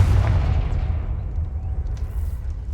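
A Confringo fire spell blasting in the Hogwarts Legacy video game: a loud, deep booming burst that rumbles and slowly decays over a few seconds, with no talking.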